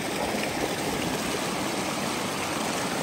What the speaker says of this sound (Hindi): लेकिन ये अभी पानी चल रहा है